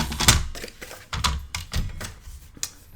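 Paper being cut for a mini album, a series of sharp close snips and taps in an irregular rhythm, each one brief and crisp against a quiet background.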